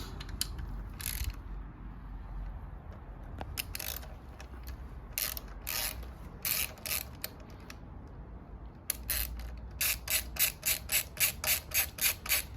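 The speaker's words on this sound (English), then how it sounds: "So now you're gonna grab your 8mm. Just gonna remove the tail bolts." An 8mm ratchet loosens the tail bolts on a 2022+ Yamaha YZF-R7 motorcycle, with sparse clicks early on and then a steady run of rapid ratcheting bursts at the end, close and clear.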